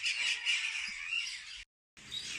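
A hand-raised bird at a bird rescue center in Belmopan, Belize gives a harsh, loud, drawn-out squawk close by, breaking off briefly before a second grating burst.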